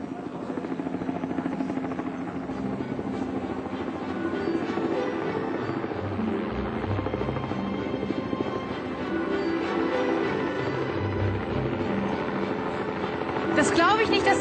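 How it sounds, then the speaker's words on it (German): A helicopter arriving, its rotor producing a steady throbbing chop that stays loud and close for the whole stretch, growing slightly stronger near the end. "Sie kommt mit dem Heli."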